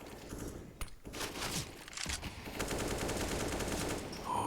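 Rapid gunfire from an M4A1-S rifle in Counter-Strike during an IEM Katowice 2022 match on the Ancient map, dense sustained bursts filling the whole stretch, loud and continuous with brief gaps.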